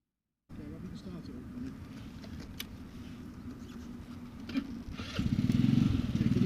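A motorcycle engine idles steadily nearby with a low rumble during a motorcycle riding test, revving up louder toward the end, while a voice speaks over it.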